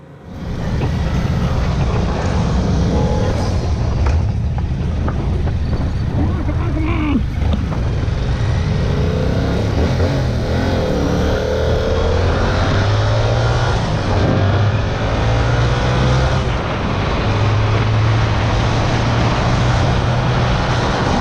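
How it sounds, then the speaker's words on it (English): Yamaha YZF-R7 motorcycle engine revving and pulling away through traffic, a loud continuous drone with rising and falling pitch sweeps, heard close and alone over road and wind noise. "let's see if we can get out of this traffic so we can give it a little bit of beans and enjoy that engine"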